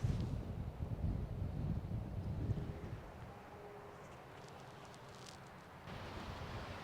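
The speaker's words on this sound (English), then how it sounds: "it's freezing today, very windy" Wind gusting across an open golf course on a freezing cold day, a steady low roaring rush that is loudest early on, eases to a quieter breathy hiss midway, then swells again near the end.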